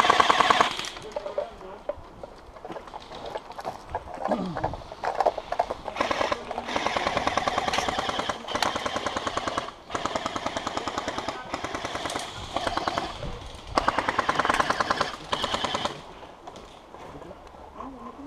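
Airsoft guns fire in long, rapid automatic bursts during an outdoor skirmish, a steady rattling chatter that stops and restarts, with players talking and calling out over it.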